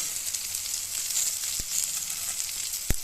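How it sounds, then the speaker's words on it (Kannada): Semolina-coated fish fries in a little oil, giving a steady, close hiss and sizzle, with a couple of soft knocks of a utensil against the pan. "ಸಿಂಪಲ್ ಫ್ರೈ ಇದೆ. ಜಾಸ್ತಿ ಎಣ್ಣೆನೇ ಹಾಕೋದು ಅವಶ್ಯಕತೆ ಇಲ್ಲ."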